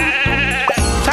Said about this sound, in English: Just drag the sheep and drop them in their pen.